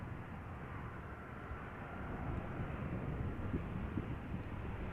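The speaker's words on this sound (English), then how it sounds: "a 737-800 from KLM arriving from Paris Charles de Gaulle" KLM Boeing 737-800 airliner arriving at Amsterdam Schiphol from Paris Charles de Gaulle, a steady, fairly distant low jet rumble and roar that builds slightly over several seconds, with no voices.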